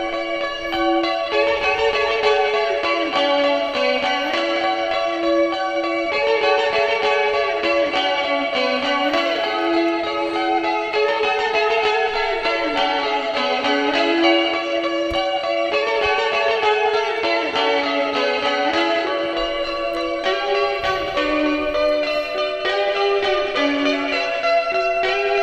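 Five layered ambient electric guitars sounding together, washed in reverb, echo and chorus, with slowly gliding sustained tones and shimmering drones that swell and fade continuously at a steady volume, no talking.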